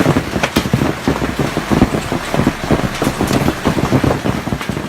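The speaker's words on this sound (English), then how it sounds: "flooding turns streets into continuous currents where a car is swept away" Floodwater surges through city streets in central Mexico amid heavy rain, a loud, churning wash broken by rapid spattering and splashing bursts that pulse continuously, close and rough.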